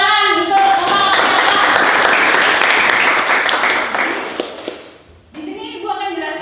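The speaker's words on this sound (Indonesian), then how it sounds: "Tepuk tangan untuk teman-teman." Schoolchildren in a classroom clap together for their classmates, a dense burst of applause lasting several seconds before fading, with a teacher's voice heard at the start and end.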